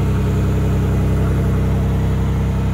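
MG ZT 190 idling steadily, a smooth continuous low engine hum close up with a slight exhaust blow, alone without talk.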